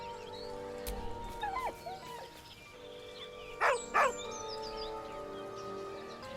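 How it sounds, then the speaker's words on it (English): A dog named Scratch in Baldur's Gate III gives two short, close whimpers near the end, with soft ambient game tones and faint bird-like chirps underneath. "With a deep, heartbroken whine, the dog bows his head."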